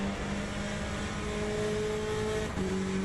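A Ferrari GTE race car in Le Mans Ultimate, racing at Monza, holds a steady, loud engine drone at sustained revs with tonal harmonics, dipping briefly around a gear change before resuming.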